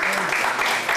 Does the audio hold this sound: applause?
yes